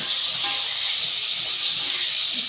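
Pangas fish turned over in frying oil in a very old, long-used wok gives a steady close hiss and sizzle that runs evenly and moderately loud throughout.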